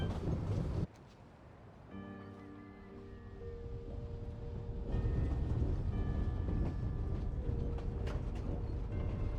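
A train running in the Genshin Impact video game, a steady rumbling ride with tonal hum layered over it, growing louder partway through and continuing throughout.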